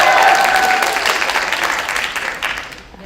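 Audience applause at an education talk concert in Korea, a dense wash of clapping from a hall crowd that starts loud and gradually thins and fades over about three seconds.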